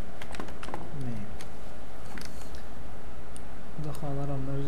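Computer keyboard keys tapped in short, quick clusters while entering text into a Microsoft Excel sheet, with someone speaking over the clicks throughout.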